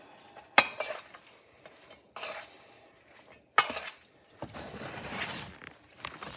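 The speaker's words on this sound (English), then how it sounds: "the stirring. I'm using a dinky spoon, which is hilarious." A small spoon stirring Greek pasta salad in a bowl, giving several loud clinks against the bowl followed by softer scraping and mixing sounds.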